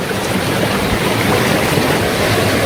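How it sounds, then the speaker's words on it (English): Rushing water of a waterfall in the forest at Apiúna, Brazil, a steady, loud broadband roar that carries on without a break and with no voices. "So maybe this is the waterfall."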